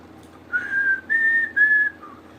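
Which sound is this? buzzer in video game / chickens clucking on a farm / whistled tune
whistled tune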